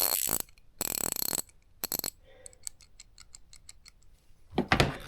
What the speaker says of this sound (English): Get this ratchet broken in